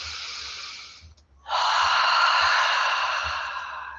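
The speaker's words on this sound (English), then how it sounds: "Take a deep, refreshing breath." A deep, slow inhale through the nose and mouth during a relaxing sunset yoga session, airy and close, following a fainter breath and a brief pause, with no talking.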